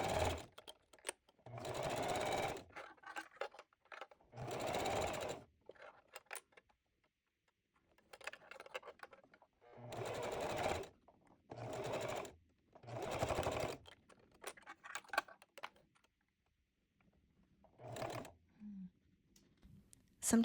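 A sewing machine stitching close to the edge of a fold in fabric, in several bursts of rapid mechanical whirring separated by short pauses, loud and near.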